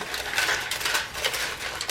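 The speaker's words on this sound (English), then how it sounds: "As I'm crumpling the leg, oh gosh, this is so noisy." Aluminum foil crumpled by hand into a sculpture leg gives close, continuous crinkling and crackling, with dense bursts of sharp rustle throughout and no talk.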